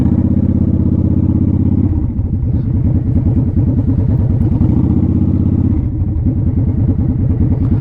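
A motorcycle engine runs loud and close as the bike is ridden and turned around in an area where boats and trailers come in, its steady throbbing hum shifting slightly in pitch partway through.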